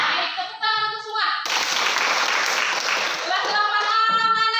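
A roomful of 8th-grade students breaks into loud, sustained applause lasting a few seconds, with a teacher's voice speaking just before and after.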